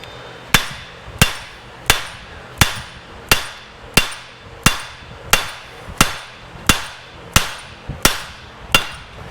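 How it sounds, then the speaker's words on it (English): Heavy hammer blows strike the stuck rear axle of an Odes Dominator 1000cc X4 LT ATV: about thirteen sharp, ringing metallic hits at a steady, unhurried rhythm, close and loud with no talking. "Let's see what happens if I give it a couple more good smacks."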